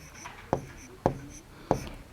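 Handwriting during a Class 3 maths lesson on the calendar, three distinct pen taps and short strokes spaced about half a second apart, quiet and close with no speech.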